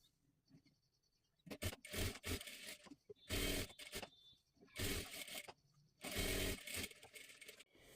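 Sewing machine stitching a small girl's blouse cut from leftover fabric: several loud, close bursts of motor whirring and needle chatter, each lasting about half a second to a second, separated by brief quieter pauses.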